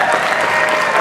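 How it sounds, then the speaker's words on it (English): Loud, dense audience applause at a CPAC conference panel, a continuous wash of clapping from a crowd, with a voice faintly under it. "I want a round of applause for Viana"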